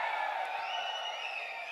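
An audience at a talk cheers in response, a brief, bright swell of many voices shouting and whooping together, loud and sustained for under two seconds.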